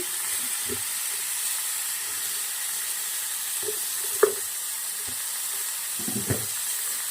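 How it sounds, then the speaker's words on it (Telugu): Tomato pieces frying with salt in a pan give a steady, soft sizzle and hiss, with a few light clinks and stirring scrapes scattered across the stretch. "ఈ టమాటో వేగడానికి కొంచెం సాల్ట్ కూడా వేస్తున్నానండి."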